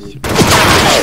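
A burst of rapid gunfire erupts in a video game shooter match after a brief quiet moment, loud and close, with rattling shots and a faint voice underneath.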